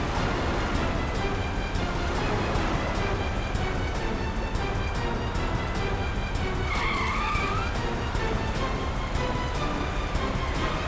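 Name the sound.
car driving recklessly with tires skidding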